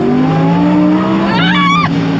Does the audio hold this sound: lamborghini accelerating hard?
yes